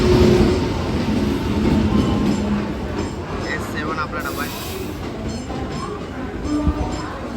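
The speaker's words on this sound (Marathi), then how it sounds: "आणि ही आलेली आहे आपली गाडी" A passenger train rumbles loudly into a station at close range, its wheels squealing briefly midway, with voices murmuring in the background.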